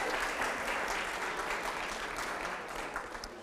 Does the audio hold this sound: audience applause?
yes